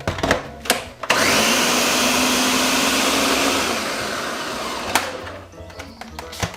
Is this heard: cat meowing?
no